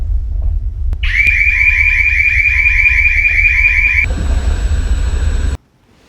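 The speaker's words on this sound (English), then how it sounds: "It sounds like we made the car alarm go off." A car alarm goes off nearby with a loud, steady electronic tone that abruptly switches to a harsher, noisier pattern partway through, then cuts off.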